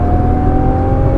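A Nissan GT-R accelerates hard on the Exotics Racing track in Las Vegas, producing a short, loud surge of engine roar with a steady whine running through it, heard up close.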